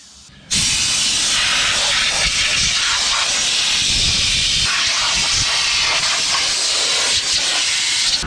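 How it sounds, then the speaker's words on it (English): A long compressed-air wand on a leaky farm air hose blasts a grain cart clean, a loud continuous close hiss that bursts on suddenly and holds steady throughout. "Trusty big long air wand, trusty air hose with like 3 leaks."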